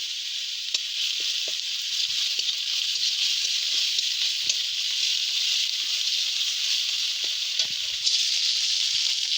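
Ginger paste hits onions frying in hot oil in a pan for a fish curry, giving a steady, loud, continuous sizzle with faint crackles and pops throughout, no voices.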